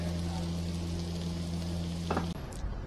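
Dosa sizzling in oil on a hot griddle at a roadside hotel on the NH4 highway in Hiriyur, a loud, steady frying hiss with a brief scrape near the end and no voices.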